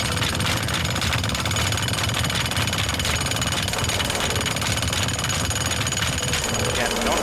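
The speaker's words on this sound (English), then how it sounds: "so this is really pretty jackhammer heavy" A jackhammer pounds and breaks apart walls in the video game Teardown, a loud, continuous rapid hammering with debris noise that runs steadily through the whole stretch without letup.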